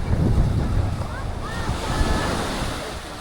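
Gusty wind buffets the microphone while ocean surf rolls and washes onto the beach at Playa del Carmen, Mexico. The roar is close and continuous, and no voices can be made out.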